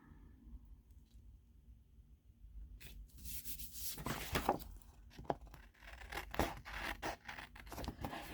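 A tape runner rolling adhesive onto paper for a card layout: quiet start, then a run of close, dry rubbing and scratchy rasping strokes with brief crackling pulls, no voices.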